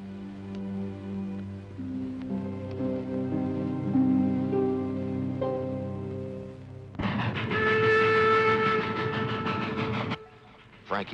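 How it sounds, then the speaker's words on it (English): A moving train in a 1950s western drama rumbles steadily along the rails, then a loud whistle blasts for several seconds before cutting off. "The train was moving right along."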